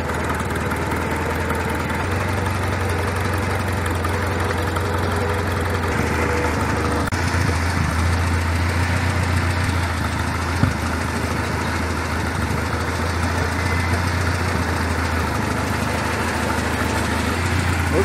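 A Farmall tractor engine idles in second gear on a steep downhill road, a loud steady low rumble with a constant throb throughout.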